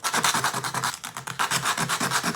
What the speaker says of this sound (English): take each gummy bear, give it a little scrape on the sandpaper